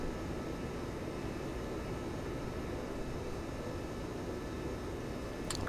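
Steady, loud roar of a MiG-21Bis jet engine running in the DCS flight simulator, a continuous broadband rush with no pauses and no talking.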